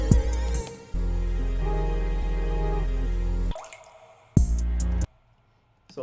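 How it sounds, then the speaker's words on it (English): Synthetic water drop sound effects play inside a music production session in FL Studio, with several bright, plinking drip tones over sustained electronic chords that cut off abruptly and return in short bursts. "Like this water drop"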